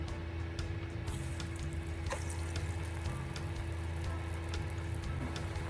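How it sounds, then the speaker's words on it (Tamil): Sprouted lentil vadai fry in hot oil with a steady, even sizzle and scattered small pops throughout, moderately close and with no talking. "நல்ல எண்ணெய் காஞ்ச உடனே பொரிச்சு எடுத்துக்கலாம்"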